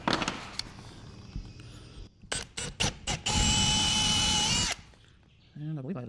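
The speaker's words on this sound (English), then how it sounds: "And we'll go ahead and pre-drill our holes." A power drill pre-drills holes in a shop wall for a TV mount, sounding as several short, loud bursts and then a sustained whine of about a second and a half, with speech around it.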